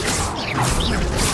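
An Accio summoning spell cast in the video game Hogwarts Legacy: a short magical whoosh with a rising shimmer and mechanical rattle, loud and close, lasting just over a second.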